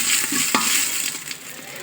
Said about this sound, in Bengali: দেখো মশলা আমার ভাজা ভাজা হয়ে গেছে।